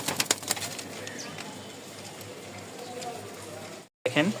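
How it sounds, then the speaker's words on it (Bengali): Pigeons in a loft, some of them sitting on eggs, coo in low, soft murmurs, with occasional sharper rustles. Someone talks over them, and the sound cuts out briefly near the end. "এই দেখেন প্রতিটা কবুতর মুস্তির জন্য একদম"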